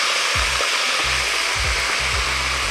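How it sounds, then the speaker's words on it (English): Soft shell crabs fry in hot oil with a constant, loud, hissing sizzle, underpinned by soft, regular low thumps. "You wanna fry these till they're golden brown."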